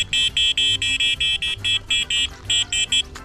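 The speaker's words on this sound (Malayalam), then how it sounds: "ഇവിടെ ഒരു ഹോൺ വരുന്നുണ്ട് കേട്ടോ" An EMotorad T-Rex Air electric cycle's small electronic horn beeps about a dozen times in a quick, even rhythm. The beeps are loud and close.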